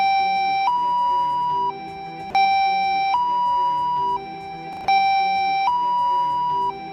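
An ambulance siren cycles through a two-tone wail, alternating high and low pitches in a repeating pattern, loud and close, with brief electronic chirps marking each switch.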